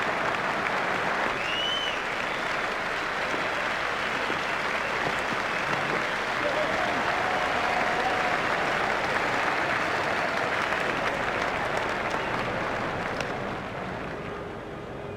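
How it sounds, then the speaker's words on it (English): A large crowd gives a standing ovation at an India versus Australia cricket match, with sustained, dense clapping and cheering from the stands that stays steady for about fifteen seconds and fades slightly near the end. "He's getting a standing ovation from this excellent crowd."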